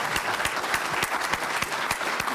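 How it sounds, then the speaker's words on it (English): People clap at a quarterly economic development luncheon in Clay County, a brisk, close round of applause with distinct individual claps standing out over steady hand noise. "let's give them a round of applause real quick"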